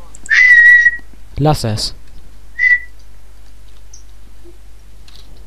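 A person whistles a sustained, steady tone close by, then after a short spoken phrase gives a brief second whistle, with quiet room background otherwise.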